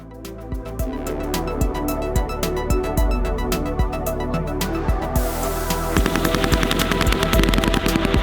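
Machine guns fire during US Marine training in Arctic cold, with steady rhythmic bursts of loud, sharp reports, then a faster, denser stream of rounds in the final seconds; no voices.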